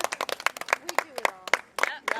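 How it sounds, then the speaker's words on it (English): A crowd on a beach cheers and claps for passing marathon runners, with sharp bursts of clapping and shouted whoops, close and lively, mixed with voices. "we're cheering and giving so much encouragement to all the runners"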